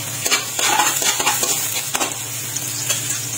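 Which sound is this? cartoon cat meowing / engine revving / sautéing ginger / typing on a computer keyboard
sautéing ginger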